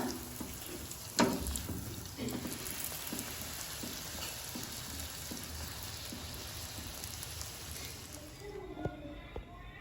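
Puris fry in hot oil with a soft, constant sizzle close by and occasional louder pops and splashes, heard under quiet talking.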